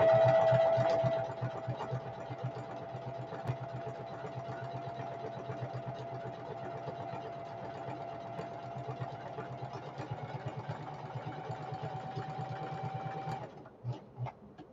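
A sewing machine top stitching cotton twill for a diaper bag, running steadily with a continuous whirring motor and fast rhythmic needle clatter, close and constant before stopping near the end.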